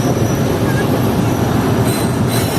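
A passenger train on a Thar Desert line pulling into a small halt and stopping, heard from on board as a loud, steady rumble of wheels and carriages with faint squealing near the end.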